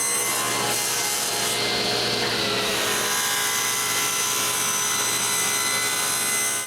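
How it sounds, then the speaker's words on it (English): Continuous loud rasping strokes of a saw cutting through a glued wooden block, close up, with no pauses. "Now that the glue of the block is dry, I can cut it to size."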